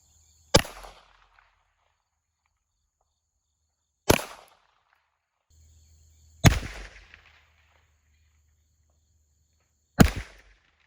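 Four sharp, loud single pistol shots from a Glock 17 Gen 4 firing 9mm 115 grain full metal jacket rounds, spaced a few seconds apart outdoors, each a crisp crack with a short decaying echo.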